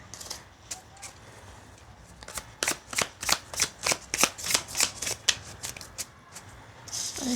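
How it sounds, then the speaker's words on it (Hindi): Tarot cards are shuffled close by in quick rhythmic bursts of riffling, a dozen or so crisp flutters in a row, alone in a quiet room. "I'll flip these cards a bit now."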